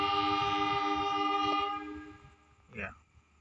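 A Kahuripan passenger train sounds a long, loud sustained horn on departure from Kawunganten station in Indonesia, the tone holding steady before fading into rail rumble, followed by a short voice-like burst.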